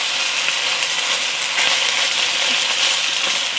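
Chicken pieces and ginger searing in a hot pan make a loud, dense, unbroken sizzle heard up close for several seconds, with no talking over it.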